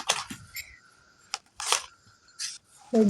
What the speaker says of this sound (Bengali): পাতা উল্টায়